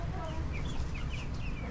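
Light Brahma and buff Orpington hens cluck softly and intermittently nearby in a backyard coop, faint murmuring calls over a low rumble of background noise.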